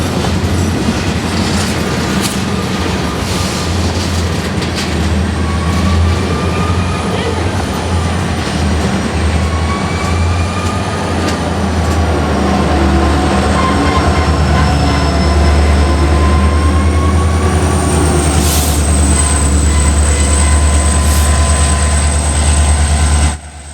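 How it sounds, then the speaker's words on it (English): A hard-working EMD SD60 diesel locomotive passes at a railroad event in Galesburg, a loud, sustained low engine roar with clickety-clack of wheels over rail joints and high squealing tones, continuous and close throughout. "it won't be long until we get another look at the SD60 working hard"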